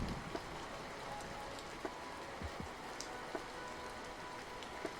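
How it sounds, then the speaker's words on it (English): Rain ambience plays as background sound in a tabletop role-playing game scene, a soft, steady patter of drops with occasional sharper ticks, faint and continuous, with no voices. "so if I go here, the rain stops."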